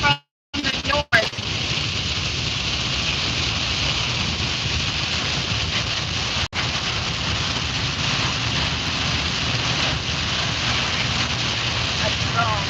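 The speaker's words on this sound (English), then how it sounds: "Rain coming at me from the north." Heavy rain pounds steadily around a vehicle during a storm chase in Illinois and Indiana, a loud, dense broadband roar mixed with wind, with someone talking over it and brief gaps near the start.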